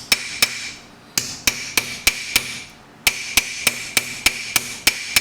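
A hammer taps a metal panel being shaped on a hotrod build, with sharp, evenly spaced close-up strikes that come in two quick bursts, each ringing briefly, and a short pause in between.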